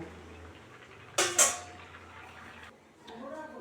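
Two sharp metallic clanks as pots of boiled potatoes and lentils are lifted off a kitchen stove, close and brief, with someone talking softly around them.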